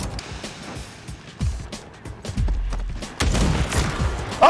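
Gunfire in a sniper video game: scattered sharp shots and booms over a busy game soundscape, with a louder burst near the end, at close to middling distance and no voices.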